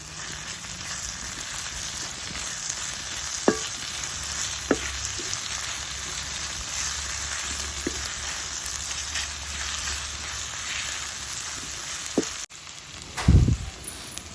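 Onions and chopped tomato fry in a pan with a steady, even sizzle that continues for a long stretch, with occasional light clicks of a spoon and a louder clatter near the end.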